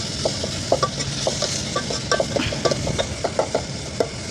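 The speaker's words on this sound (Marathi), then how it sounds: "थोडीशी कोथिंबीर टाकते फोडणीत आणि आता आपण परतून घेऊया. कांदा चांगला लाल करायचा ह्याच्यामध्ये." Onion is sautéed in a spiced tempering with coriander leaves. A spatula scrapes and taps the pan in a steady rhythm over a constant crackling sizzle.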